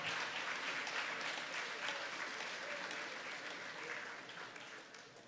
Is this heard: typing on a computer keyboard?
no